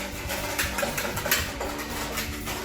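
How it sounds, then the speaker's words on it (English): Whisk beating sugar and instant yeast together in a mixing bowl for focaccia dough, a close, steady rhythmic scraping and tapping that continues throughout. "we put that straight into our mixing bowl and then I just whisk it"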